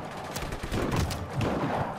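A rapid burst of gunfire crackles continuously, dense and loud, like automatic weapons blazing in a Just Cause 3 game battle with no voices over it.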